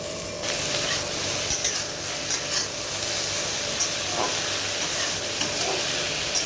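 Potato pieces frying to a reddish brown in a pan for a Kajoli fish recipe, giving a steady, loud close sizzle throughout with a few faint scrapes of stirring.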